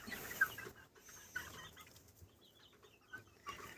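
Soft clucking from a few small miniature chickens scattered through the clip, quiet chirpy calls over a low background rustle, on a farmyard in the evening.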